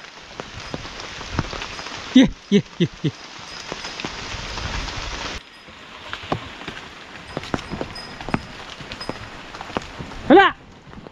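Steady rain falls on a rural Konkan homestead, a soft continuous patter with a few louder drips and knocks, while people talk and call out nearby.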